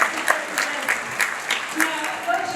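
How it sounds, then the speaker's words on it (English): Audience applause for helpers at a health talk, steady rhythmic clapping from a room of listeners, moderately loud with a faint voice underneath. "Just give them a big hand in the big clap."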